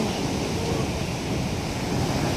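Sea waves on a morning shore, a continuous close wash of surf with some wind rumbling over the microphone, no voices.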